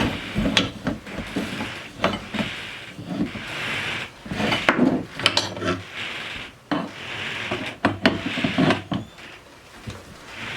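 Rear wheel and brake caliper of a Honda CBR motorcycle sliding out of the swing arm, heard as close scraping, rubbing and knocking clatter in irregular bursts.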